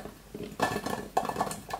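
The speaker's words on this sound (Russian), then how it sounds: "берем кастрюлю, перекладываем в кастрюлю ягоды" Blackcurrant berries are tipped into a metal saucepan, with a few distinct clattering, pattering bursts of contact against the pot, close and moderately loud, with no talk.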